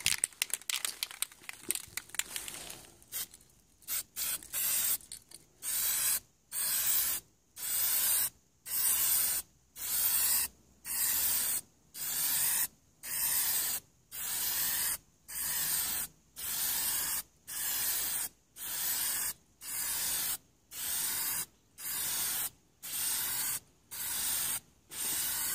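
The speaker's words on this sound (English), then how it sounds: "I've been shaking this can now for about a minute, and we can get our first coat on." An aerosol spray paint can coats a Honda Civic hubcap with a run of short, loud hissing bursts in a regular rhythm, each separated by brief silence, after a few rustling handling sounds at the start.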